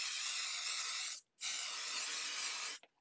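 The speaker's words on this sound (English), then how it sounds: "I'm going to spray the reverse of this with a permanent spray adhesive." Two long bursts of permanent spray adhesive hiss from an aerosol can onto the back of a paper watercolour floral card, each steady and close, separated by a brief pause.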